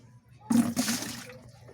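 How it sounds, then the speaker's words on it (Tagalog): Water running from a small mini faucet indoors during rice washing, a short close splashing gush that swells and tapers off within about a second, no speech over it. "Gripo guys. Ayan o. Mini gripo."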